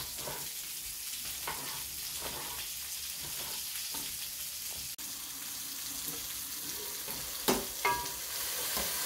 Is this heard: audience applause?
no